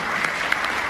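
Brief burst of audience applause at a live university talk, steady crowd clapping at moderate level.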